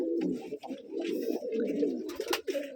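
Rajshahi gerebaj pigeons coo in a loft, with low, throaty rolling calls close by that overlap and continue steadily, mixed with light rustling and small background sounds.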